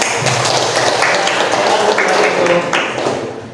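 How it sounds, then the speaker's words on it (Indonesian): Applause from a class audience after a group presentation in an Indonesian-language lesson, a dense steady patter of clapping hands filling the room for a few seconds before tapering off at the end. "Tepuk tangan."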